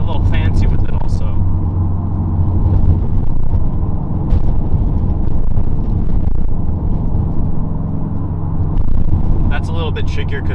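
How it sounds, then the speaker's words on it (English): A car engine with a manual gearbox sustains a loud, continuous drone from inside the cabin, rising and falling as the throttle is blipped during gear changes, with no clearly separate bursts. "I just blipped the throttle twice"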